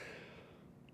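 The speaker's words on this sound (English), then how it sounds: "that was a genuine yawn" One genuine human yawn from a man on a comedy podcast, a short breathy exhale that fades away over about a second, quiet and close, with no words.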